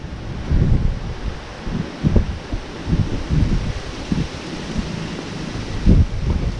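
Strong wind gusts buffet the microphone outdoors as a storm rolls in, a steady rushing roar with heavier bursts swelling every second or two, loud and close with no voices.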